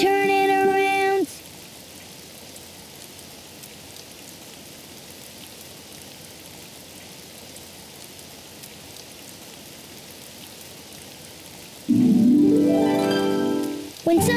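Cartoon rain falling outside, a soft, even hiss of drops that runs steadily through the middle, with brief music and voice-like sounds at the start and end.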